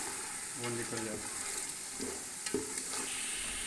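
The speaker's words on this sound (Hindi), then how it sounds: "सही अच्छे तरीके से इसकी भुनाई करनी है ताकि इसका जो ऑयल है वो निकल जाए।" Meat masala for Bong being stirred and fried in a pot, with a steady oily sizzle and several scraping strokes of the spoon against the metal, close up and without talk.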